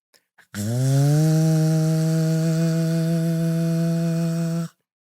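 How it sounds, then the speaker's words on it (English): A leaf blower engine spins up with a quick rising whine, then holds a loud, steady droning hum for about four seconds before cutting off abruptly. "Leaf blower sound."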